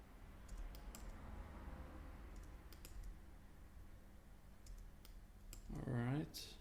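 Faint computer keyboard and mouse clicks tick sparsely at close range while someone works on an animation, with a voice briefly speaking near the end over soft room noise.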